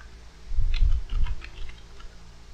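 Quick bursts of typing on a computer keyboard as a search for mouse settings is entered in Windows, a short cluster of close, soft key clicks over a quiet room.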